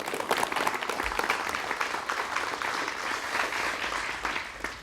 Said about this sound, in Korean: 두 분에게 여러분 박수 부탁드립니다.